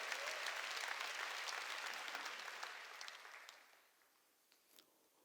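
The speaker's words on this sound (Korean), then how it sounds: "박수" Congregation at a Wednesday church worship service breaks into loud, dense applause that holds steady, then fades out over a few seconds, leaving a few scattered claps.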